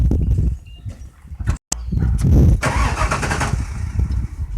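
A truck engine is being started: rough cranking and sputtering come in bursts, with a brief cutout, then an engine catches and runs unevenly at moderate loudness.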